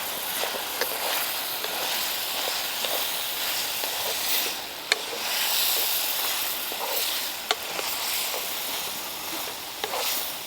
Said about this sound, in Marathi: मी आता हे सगळं आपल्याला असं हलवून घ्यायचं आहे